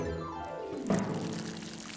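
Water pours from a lifted watering can onto seeds, a short steady splashing pour of about two seconds, alone with no talk.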